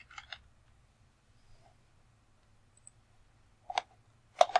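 Sparse computer mouse clicks and a few keyboard taps, close and crisp, in short bursts separated by quiet gaps over a low hum.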